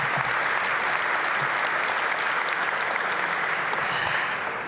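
Dense, steady applause from a crowd at an announcement event in Washington, D.C., a loud continuous wash of clapping that holds throughout with no pauses.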